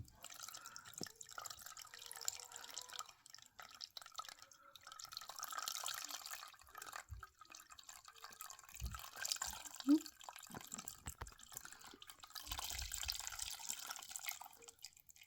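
Rendered beef tallow from a crock pot dripping through a flour sack into a measuring glass, quiet scattered drips and trickles over faint background noise, with some low handling sounds between them.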